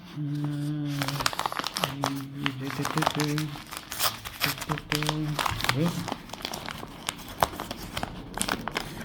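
Plastic packaging crinkles and tears in short bursts close by, with a voice talking intermittently over the rustling.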